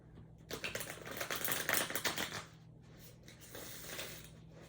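Playing cards are riffled and shuffled in quick rattling bursts close up, followed by quieter softer handling.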